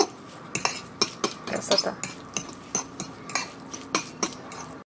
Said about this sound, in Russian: Немножечко оливкового масла. И тщательно все перемешиваем.